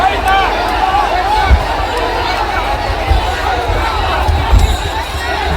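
A dense crowd at a temple chariot festival fills the air with overlapping shouts, chatter and cheering, loud and close with scattered bursts.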